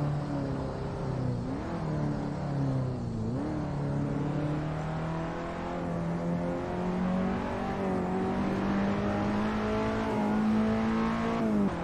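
A Ferrari F2004 Formula One car engine in the Assetto Corsa racing game drones steadily for the whole stretch, its pitch sliding up and down through gear changes and throttle shifts, loud and close with no talking.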